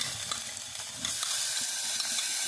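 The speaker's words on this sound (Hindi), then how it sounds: "ये सब मुश्किल से 1 मिनट से भी कम चलाया है अभी शुरुआती मसालों को, और अब हमने टमाटर डाल देना है" Tomatoes dropping into spices sizzling in a frying pan, a steady loud hiss and crackle with light stirring, no talking.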